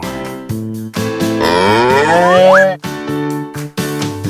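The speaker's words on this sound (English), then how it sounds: "The cows can see Farmer Tubby coming" Cows on a farm moo loudly and repeatedly in a cartoon farmyard scene, with long drawn-out calls, one rising sharply in pitch, alongside background music.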